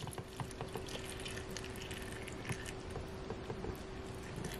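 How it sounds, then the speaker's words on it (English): Water pours into a Dash Mini rice cooker holding lentil soup with vegetables, a faint continuous splashing trickle with small drips, quiet and close. "I'm gonna add a little bit more water."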